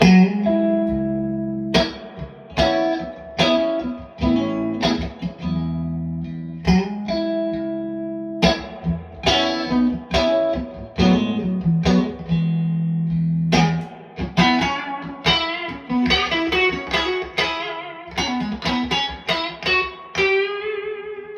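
An electric guitar plays through an amp, chords and single notes ringing out with a wash of reverb trailing each strum.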